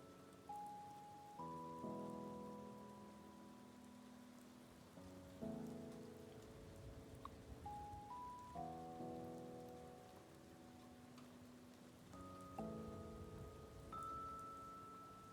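Steady acid rain patters across a surface beneath soft sustained synth tones and chords in the video game Doloc Town, with no one speaking.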